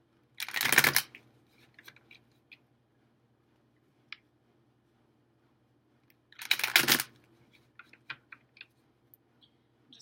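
Two short bursts of cards being riffled, a few seconds apart, with faint clicks and light handling noises in between in a quiet room.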